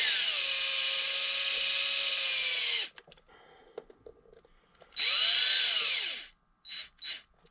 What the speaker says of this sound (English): I'm so fine-tuned to this particular drill here that I can tighten it down without breaking any kind of screws